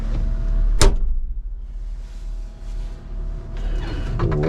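Cab door of a Caterpillar 306 mini excavator, one sharp, close latch clunk followed by a low rumble and rattling handling noises as the door swings.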